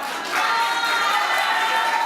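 Debate audience at an Anguilla National Youth Council political debate breaking into crowd applause and cheering, a dense steady wash of clapping and voices that swells after a brief quieter start and holds loud throughout.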